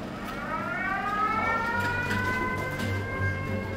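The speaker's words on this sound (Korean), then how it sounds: "동명부대에 비상대피 사이렌이 울렸다." A military base emergency evacuation siren wails, rising and falling steadily, heard from a distance over a low rumbling background in Tyre, Lebanon, with no voices.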